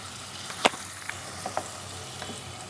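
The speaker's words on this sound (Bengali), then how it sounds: "সব উপকরণ একসাথে ভেজে নেব" Scrambled eggs and other ingredients fry together in a pan for Maggi noodles, giving a soft low sizzle broken by a sharp spatula scrape and a few light stirring clicks.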